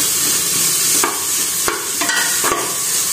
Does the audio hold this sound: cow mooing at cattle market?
no